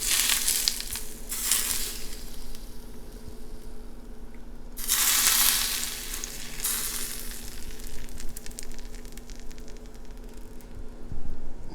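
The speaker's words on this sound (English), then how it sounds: "I'm going to heat some chili oil. A couple tablespoons. Just until it starts almost smoking." Chili oil, a couple of tablespoons, heats in a pan until it nearly smokes for a Szechuan-style steamed fish with tofu. A steady crackling sizzle comes in louder hissing bursts with no voices.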